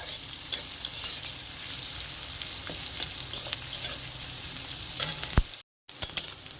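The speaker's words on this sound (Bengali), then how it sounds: "মশলাগুলো আমার ভালো করে ভাজা হয়ে গেছে।" Spices and half-ripe green chillies frying in oil for a pumpkin ghonto, a soft continuous sizzle with repeated scraping stirs of a spatula in the pan, close by, with a brief gap of silence near the end.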